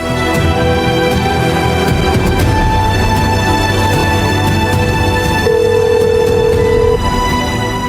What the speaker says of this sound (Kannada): ಒಂದು ಫೋನ್ ಮಾಡಿ ವಿಚಾರಿಸ್ಬೇಕು